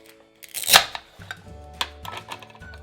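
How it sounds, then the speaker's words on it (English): A knife slices through a red apple with one sharp, close cut, followed by a few softer taps and small clicks. "Let's start by slicing this red apple."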